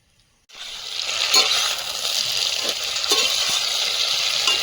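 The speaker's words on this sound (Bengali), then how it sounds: "আটা মশলাটা দিয়ে আরো একটু আলুটা কষিয়ে নেবো" Boiled potatoes frying with ground spice paste in a pan. A loud, steady sizzling hiss starts suddenly after a moment of quiet and continues, with a few light spatula scrapes.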